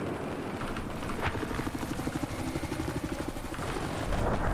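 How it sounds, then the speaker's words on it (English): Battlefield 4 gameplay with an attack helicopter striking a building: a steady loud rotor chop with rapid rhythmic thumping, broadband roar and a few sharp impacts, continuous throughout with a faint voice underneath. "Helicopter has attacked the building."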